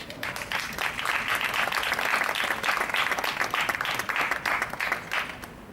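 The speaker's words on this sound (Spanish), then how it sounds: "se puede aplaudir si queréis" Applause from the audience at a Podemos political assembly in Santander, a sustained roomful of clapping with a lively, uneven texture that keeps going for several seconds before easing slightly.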